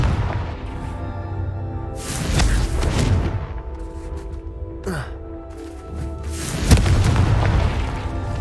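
The Confringo blasting spell goes off in Hogwarts Legacy with several deep, booming explosive bursts over a constant game ambience, each loud blast followed by a rumbling tail.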